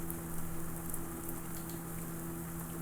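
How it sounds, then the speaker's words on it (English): Soft rain spatters on a bus window in the Shadows Over Loathing video game, a faint, steady patter over a low humming drone. "Soon you're dozing off to the sound of rain spattering on the window beside you."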